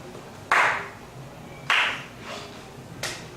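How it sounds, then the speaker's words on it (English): A person demonstrates weak, half-hearted clapping: three separate claps spaced about a second or more apart, each a short crisp burst, with the last one softer, over faint room noise. "Can you show us clapping that's not so good?"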